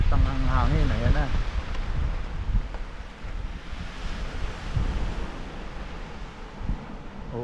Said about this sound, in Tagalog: Lakas ng hangin, ayan na.